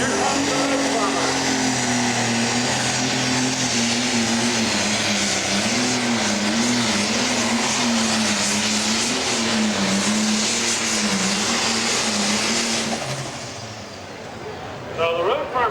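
A pro stock pulling tractor roars loud and steady at an Ohio tractor pull in Mansfield, its engine droning continuously for about thirteen seconds before dropping away, with an announcer's voice carrying over it.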